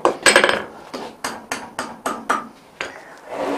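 A hammer strikes a forged, butt-welded ring over a mandrel to put bevels in it, about eight sharp metallic blows in a steady, quickening rhythm, close and loud, with no talking.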